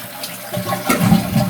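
A household toilet flushes close up, the flapper lifting and dropping as water rushes out in a building swirl that grows louder and fuller toward the end.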